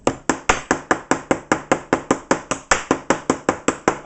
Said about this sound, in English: Pepper's so hard it's leaving like little dings in the wood.